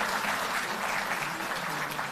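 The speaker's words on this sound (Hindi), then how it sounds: "तालियों की गड़गड़ाहट में वही उत्साह" Dense, steady applause from a large audience at a Delhi Jal Board event honouring workers made permanent, filling the whole moment at an even level without letup.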